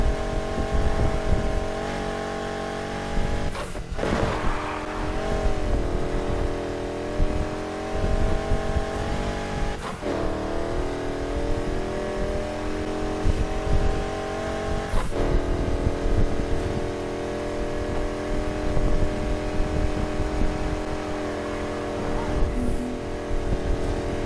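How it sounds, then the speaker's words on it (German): A car racing at high speed through city streets in Need for Speed Heat, its engine revving loudly and continuously, with pitch climbing and dropping at several sharp gear shifts. "Ich fahre gerade mit 440 durch die Stadt."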